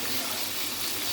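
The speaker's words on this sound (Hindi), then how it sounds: "अब हम इसके अंदर पानी डालेंगे।" Water pours into a pot of well-fried chickpeas for chana pulao, a steady broadband gush running loud and unbroken for about a second with no talking over it.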